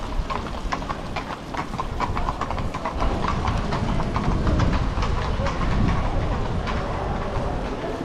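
Horse hooves clop in a steady rhythm on pavement as a Fiaker horse-drawn carriage rolls through Vienna's city center, with rumbling traffic and street noise around it.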